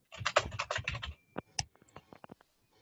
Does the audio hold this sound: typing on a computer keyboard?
yes